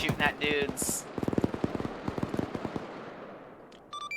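Tank crew firing in Arma 3, a rapid burst of sharp gunfire cracks in quick succession after a few louder blasts, with radio-like chatter and electronic beeps around it, tailing off into echo.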